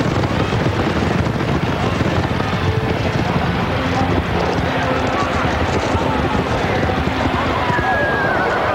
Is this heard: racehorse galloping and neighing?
yes